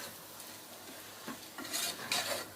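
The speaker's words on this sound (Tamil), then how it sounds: "நல்லா இந்த அரிசியை இதோடையே மெதுவாக வதக்கிக்கிங்க." Soaked rice is gently stirred and sautéed in a pan for mint pulao, with quiet scraping and shuffling that grows a little louder toward the end over a faint background hiss.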